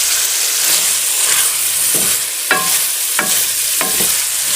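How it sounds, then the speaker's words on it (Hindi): Potato and eggplant curry sizzles and fries in a pan with a constant close hiss, while a spoon scrapes through it in a few distinct stirring strokes; no one speaks. "तो सब्ज़ी मैंने अच्छी तरह से भून दी है।"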